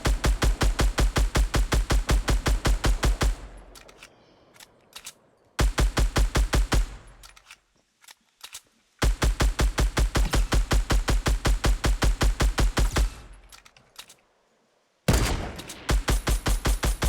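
Rapid automatic gunfire from several gunfights in Fortnite rattles in loud sustained bursts, broken by short quieter gaps with scattered distant shots.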